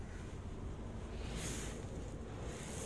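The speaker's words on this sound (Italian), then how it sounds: "Sentite le raffiche." Strong wind gusts during a windstorm in Agliana, Tuscany, roaring steadily and loudly as broad rushing noise with a brief surge midway, heavy wind buffeting on the microphone and no voices.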